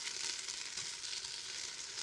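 Oxtail frying in a hot pan gives off a steady, dense sizzle that holds at an even level throughout, close and continuous with no talking.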